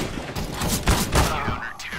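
Rapid gunfire in CS:GO, a short burst of several close shots over continuous game noise, with a voice talking underneath.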